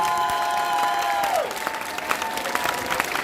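A concert audience applauds loudly at a Japan pop show in Saint-Malo, a dense steady clatter of clapping with faint cheers, while a sustained sung or synth tone fades out beneath it in the first second and a half.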